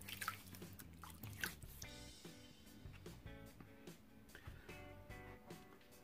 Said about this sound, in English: We'll water the face.